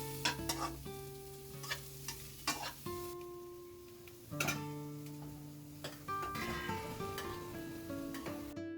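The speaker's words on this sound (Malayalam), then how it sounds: "ഇതെല്ലാം കൂടെ ഒന്ന് ആ പച്ചമണം മാറി വരുന്നിടം വരെ നമുക്ക് ഇളക്കി കൊടുക്കാം." Capsicum and mixed vegetables stir-fried in a pan for fried rice, with a steady soft sizzle and irregular sharp spatula clicks and scrapes, beneath continuous melodic background music.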